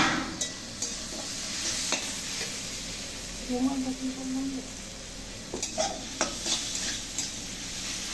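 Chopped onion fries in a pan under a soft, steady sizzle, punctuated by repeated scraping stir strokes and clinks of utensil on pan, with a brief faint voice in the background.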